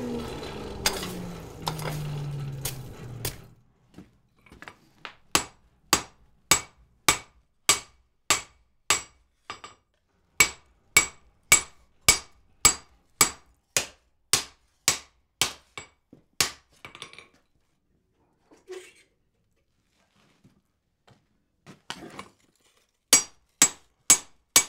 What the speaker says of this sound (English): That is the most heavy hammering I've done in a while.